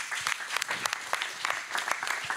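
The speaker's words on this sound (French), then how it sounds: "Sous vos applaudissements, s'il vous plaît" Steady audience applause at a hip-hop history conference, many hands clapping close together in a dense, continuous patter for a couple of seconds with no voices.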